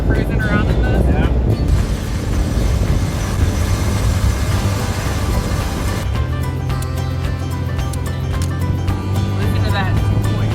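A rebuilt 2.9-liter engine in a 1992 Ford Ranger pickup runs steadily during a drive, a constant low drone with a brief shift partway, under loud talk from people in the cab.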